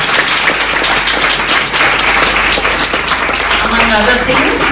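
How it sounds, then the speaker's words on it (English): Loud, dense applause from a satsang gathering rolls on without a break, with a voice rising briefly near the end. "Let's give another loud applause."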